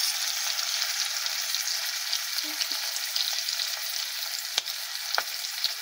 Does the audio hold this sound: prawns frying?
yes